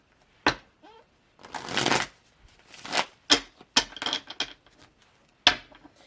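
Tarot cards being shuffled by hand, a series of quick riffling bursts and sharp taps with short silent gaps between them, close and clear.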